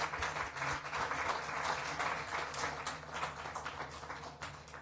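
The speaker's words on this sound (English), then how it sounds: "we give you a huge applause" An audience applauds steadily after a presentation at a discussion event, many hands clapping in a dense, continuous wash of sound with no voices over it.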